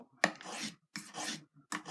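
A kitchen knife drawn across a finer sharpening stone gives repeated raspy scraping strokes, three bursts in steady rhythm, close and fairly quiet with no talk.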